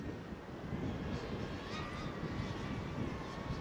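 DJI Avata 2 drone flying at top speed in CE mode in wind, a steady loud motor and propeller whine with a shifting pitch that holds throughout with no talk.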